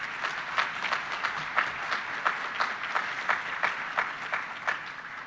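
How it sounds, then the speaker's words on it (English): An audience at a university teacher pinning ceremony gives steady applause with rhythmic swells, moderately loud and continuous with no talk over it. "So let's have a big round of applause for you."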